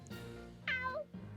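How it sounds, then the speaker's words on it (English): A cat in the Fire Emblem Warriors Three Hopes video game gives one clear, drawn-out meow that rises and then falls, close and plain over a low game background hum. "Well, well. A cat."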